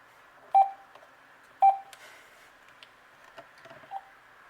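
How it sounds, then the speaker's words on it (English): Cordless phone keypad tones of poor, tinny quality from a faulty base audio driver: two distinct beeps followed by a few fainter clicks and tones, no talking. "the keypad tone and the ringers they really do have a bad quality."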